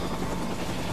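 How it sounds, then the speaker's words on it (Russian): A helicopter from the Watch Dogs 2 video game makes a steady, dense rotor and engine roar that fills the whole moment, loud and close, with no talk over it. "Вертушка это, блин."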